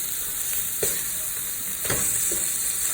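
Chicken pieces sear in a hot pan on the stove for a smothered chicken dinner, giving a steady close sizzle and hiss with a few brief louder spatters and stirs, no voices over it.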